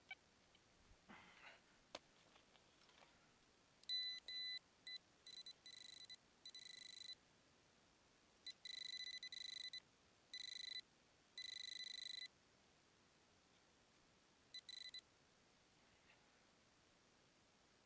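A Quest X10 metal detector sweeping along a forest road emits a series of short high electronic beeps and longer sustained tones, some choppy bursts and others steady, clear against quiet outdoor background.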